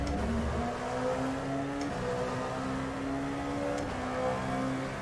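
LMP1 prototype race car in the iRacing sim at Hockenheim, a steady engine drone with shifting pitch as it closes in from behind, continuous and moderately loud with no talk.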